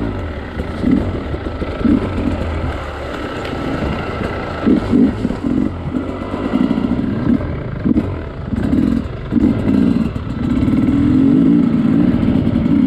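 A Sherco trials motorcycle climbing badlands hills, its engine loud and close with a steady drone broken by repeated sharp throttle blips and revs, building to a sustained high rev near the end.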